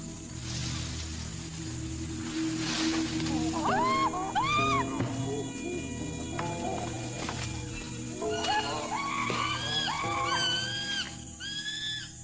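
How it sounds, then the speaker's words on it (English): A terrified female chimpanzee in a wild gorge lets out repeated high, shrill screams in bursts, rising and falling, over rustling and background noise. "Her terrified screams alert Brutus, who recognizes the challenge to his power."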